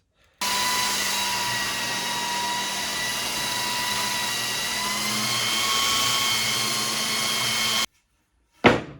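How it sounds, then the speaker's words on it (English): A random orbital sander smooths salvaged wainscotting with a loud, steady whirring drone that runs about seven seconds, then cuts off, followed by a brief second burst of noise. "I'll use the random orbital sander to make it nice and smooth."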